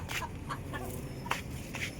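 Chickens clucking nearby, a handful of short, soft calls spread unevenly over a low background rumble.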